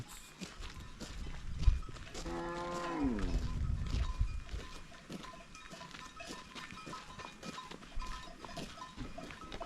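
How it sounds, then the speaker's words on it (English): Cattle graze in a rural village as one cow lets out a loud, drawn-out moo midway, with soft footsteps and outdoor background noise around it. "The cattle are grazing. Lots of cattle."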